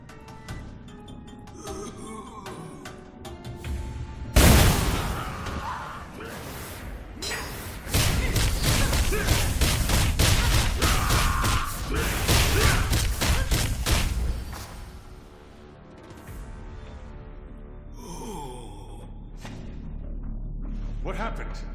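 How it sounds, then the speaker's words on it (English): A loud sudden blast erupts in the video game Blade and Soul, followed by a long stretch of rumbling, crashing and rapid thudding impacts that fade to quieter ambience. "I heard an explosion."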